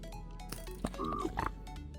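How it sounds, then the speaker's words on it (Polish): Wild pig oinking in a blocky Minecraft-style survival game, a few short grunting calls over steady game background noise. "Dzika świnia?"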